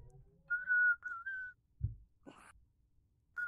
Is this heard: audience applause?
no